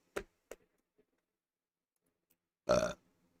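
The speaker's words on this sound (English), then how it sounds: "I apologize for burping into the microphone." A single short, loud burp made close into a microphone, preceded by a couple of faint clicks and followed by near silence.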